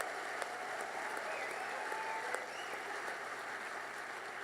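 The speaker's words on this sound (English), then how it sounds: "please give a raucous round of applause for all the organizers" Steady applause from a theater audience at an environmental gathering, recognizing the organizers; a dense, even wash of clapping holds at moderate level throughout with no voices standing out.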